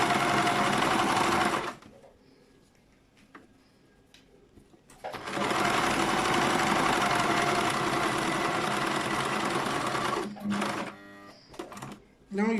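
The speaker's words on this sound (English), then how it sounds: "So I'm going to be sewing it down." Sewing machine stitching a braided turban hat, a loud close whirring run that stops, then starts again for a long stretch, ending with short bursts, with a person speaking nearby.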